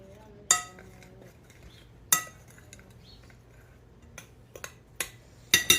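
A utensil stirs protein pancake batter in a bowl, giving a few sharp, spaced clinks against the side with quiet scraping between them.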